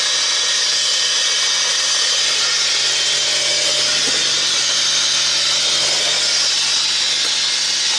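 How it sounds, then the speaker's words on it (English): Loud, steady high-pitched whine from the rear differential of a Mitsubishi Pajero Mini held at high RPM in 4th gear, a continuous hissing drone with no breaks. "this whining sound coming from the rear end"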